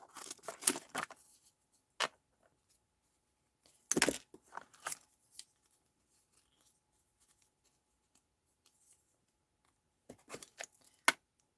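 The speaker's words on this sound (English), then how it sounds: "So I am cutting through 4 layers" Scissors cutting through four layers of paper for a rose stamping craft, heard as sparse, close, crisp snips and rustles in short bursts separated by near silence.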